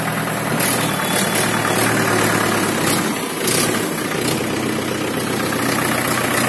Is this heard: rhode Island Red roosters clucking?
no